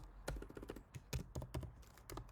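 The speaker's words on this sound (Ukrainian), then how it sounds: "якщо я тут зараз напишу Іван" A name is typed on a computer keyboard: a quiet, close run of quick key clicks with brief pauses in between.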